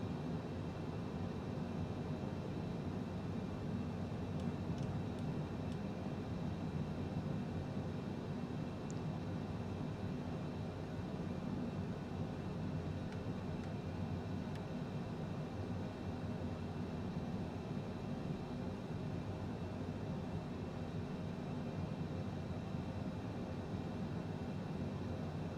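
A Citation CJ4 business jet descends in Microsoft Flight Simulator 2020, heard as a low, steady, even engine and airflow drone with no talk, unchanging throughout.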